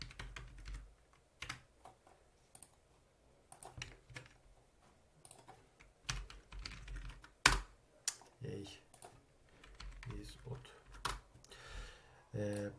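A computer keyboard is typed on in short, irregular bursts of soft clicks and key taps, fairly quiet and close, with a person talking at times between the keystrokes.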